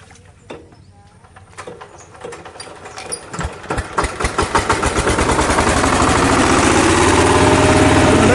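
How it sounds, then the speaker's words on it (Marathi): A power tiller engine on a Konkan rice paddy cranks with sputtering pops, catches, and settles into a loud, steady running drone that grows and fills the last few seconds, with faint birds earlier. "पॉवर टिलरचं इंजिन स्टार्ट केलं आहे."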